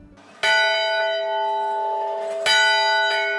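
California mission church bells ring out, with two loud clanging strikes whose bright tones linger and hum between hits, and a fainter tap near the end.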